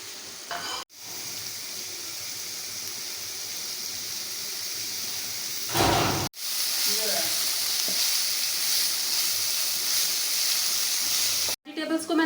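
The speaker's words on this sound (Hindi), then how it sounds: "अब मैं सारी सब्जियां डालूंगी और उन्हें सिर्फ 2 मिनट तक स्टर फ्राई कर लूँगी चिकन के साथ" Vegetables and chicken stir-fried in a hot pan give a loud, continuous sizzle with hissing steam, broken by a few sharp pauses and bursts as the food is tossed and stirred.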